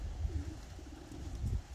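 Pigeon cooing outdoors, a few soft low coos rising over faint background noise, near but quiet.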